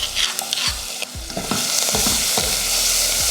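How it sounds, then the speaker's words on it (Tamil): Onions, curry leaves, turmeric and crushed garlic sauté for rasam with a bright, close sizzle, broken by repeated rhythmic clanks and scrapes of a ladle against the pan, no voices. "சேர்த்துட்டு இதை நல்லா வதக்கி விட்டுறணும்"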